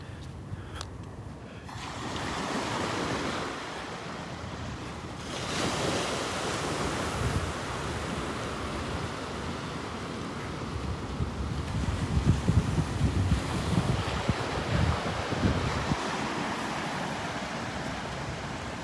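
Ocean surf rolls steadily onto a beach in North Naples, Florida, with gusting wind buffeting the microphone throughout and waves swelling louder toward the middle.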